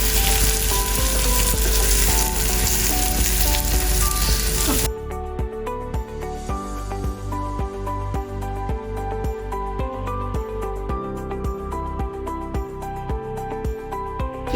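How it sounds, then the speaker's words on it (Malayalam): Vegetables sautéing in hot oil in a pan, a loud, dense sizzle at first that suddenly drops to a softer, steady frying crackle with light stirring, no voices. "ഈ എണ്ണയിലേക്ക് തന്നെ നമുക്ക് കുറച്ച് വെജിറ്റബിൾസ്, നമുക്ക് ഇഷ്ടമുള്ള വെജിറ്റബിൾസ് എല്ലാം ഒന്ന് സോട്ട് ചെയ്തെടുക്കാം"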